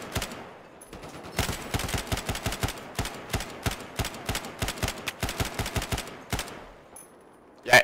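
Bursts of automatic gunfire in Battlefield 4 multiplayer, rapid repeated volleys and single cracks running almost continuously for several seconds, loud and close, with no talk over them.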